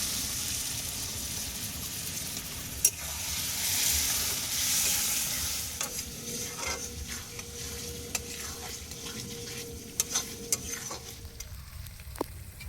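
Spices fry in a pan for goat meat being cooked outdoors in a village garden, a continuous hiss broken by stirring scrapes and a few sharp clinks of the spoon, close and without talk.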